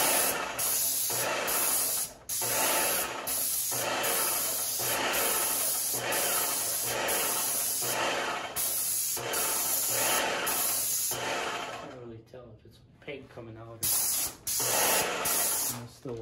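A Graco X7 airless paint sprayer sprays water in a loud, steady hiss, with short regular breaks as the trigger is released and a quieter gap near the end.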